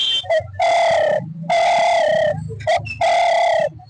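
A human voice imitates a dove's call, giving a series of drawn-out hooting tones broken by short throaty notes, loud and close.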